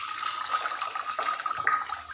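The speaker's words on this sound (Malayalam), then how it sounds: "അപ്പോൾ അതിനകത്തേക്ക് നമുക്ക് വെള്ളം ഒഴിക്കാം കേട്ടോ." Water is poured into a heated coconut shell while making tea, a continuous light splashing trickle heard alone at close range.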